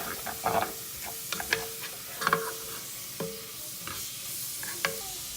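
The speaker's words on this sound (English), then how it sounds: "add the garlic to that, and then just kind of stir this around so the garlic gets incorporated" Garlic and cauliflower rice are stirred in a sizzling pan for a keto coconut cilantro lime dish. Soft, irregular spoon scrapes and taps sound over a steady, low frying hiss, close up, with no talking.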